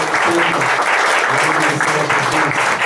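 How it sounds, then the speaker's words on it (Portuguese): Loud, dense clapping from a church congregation at a Baptist service, continuous and close throughout, with voices mixed in underneath. "Você pode aplaudir o nome do Senhor Jesus?"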